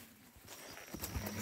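Horse hooves clip-clop on a cattle ranch after the rains return, a short run of close, uneven thuds over steady outdoor noise.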